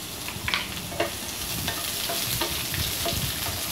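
Chopped large onions sautéing with cloves, cinnamon and bay leaf for green peas masala, a steady sizzle broken by a few soft stirring scrapes, alone and fairly close.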